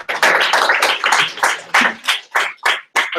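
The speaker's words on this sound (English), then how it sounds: "Let's do applause." Brief burst of clapping from a small group at the close of a hackathon opening stream, uneven claps tapering into sparser, separated hits over about three seconds.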